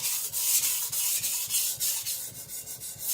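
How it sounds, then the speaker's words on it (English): Cleaver blade stroked back and forth across a whetstone to sharpen and thin its edge, a steady series of close, gritty rasping strokes in regular rhythm with no voices. "I'm thinning there, putting a little relief bevel there at about 12, then sharpening the edge at about 15"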